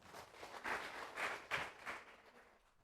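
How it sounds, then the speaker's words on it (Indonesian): Audience clapping for the teachers at an education training session, several bursts of applause rising and falling over a few seconds, fairly faint and roomy, with no voices over it. "tepuk tangan dulu untuk ibu dan bapak semuanya"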